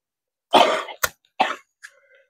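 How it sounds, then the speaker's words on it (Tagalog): A man coughs outdoors during a rainy dragon fruit harvest, giving a loud burst of coughing followed by two shorter, sharper coughs and a faint throat sound, close to the listener. "inuubo na si Angkol"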